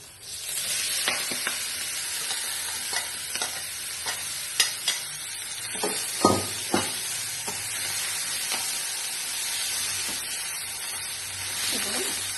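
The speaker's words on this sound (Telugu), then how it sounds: "తాలింపు వేగింది చక్కగా." A tempering of garlic, cumin, green chilies, curry leaves, turmeric and gram flour sizzling in a pan while being stirred, steady frying hiss broken by repeated spoon taps and scrapes.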